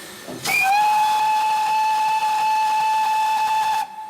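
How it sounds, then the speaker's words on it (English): A steam locomotive whistle shrieks with a single long, steady tone after a burst of hissing steam, loud and close, then cuts off abruptly. "You want to make some noise and blow the whistle?"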